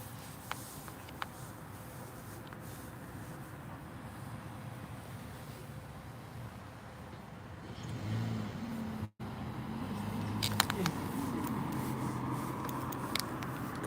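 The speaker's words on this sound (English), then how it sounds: "He hears a car, but he can't see it." A car passes on a nearby road outdoors, a steady broadband road and wind rumble that swells louder from about eight seconds on, with a brief dropout just after nine.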